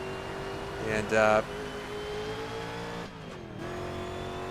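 A historic sportscar engine in an online racing video game drones steadily through the clip, with a brief louder rev near the start, and a short word is spoken over it.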